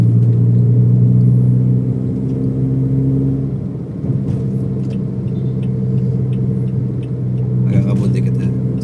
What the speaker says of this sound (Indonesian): knalpotnya enak banget suaranya